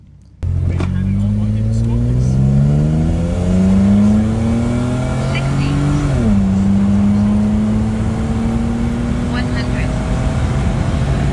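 Ford BA Falcon accelerating hard from 0 to 100 km/h: loud, close engine roar climbing through the revs, one gear change midway, then a steady rising drone, heard from inside the car.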